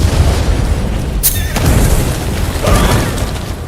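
A cartoon TNT blast blows up a mountain, a dense rumbling boom with a sharp burst near the middle and a second swell of debris noise later, loud and continuous throughout.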